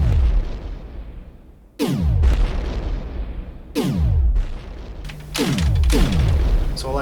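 Repeated explosive bursts from asteroids being shot in the Atari 2600 game Asteroids: sharp booms with decaying tails, about four loud blasts spread over several seconds, with no talk.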